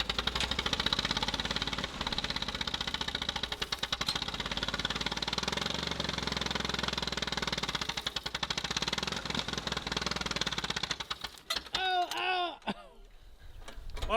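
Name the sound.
1949 Allis Chalmers WD tractor engine running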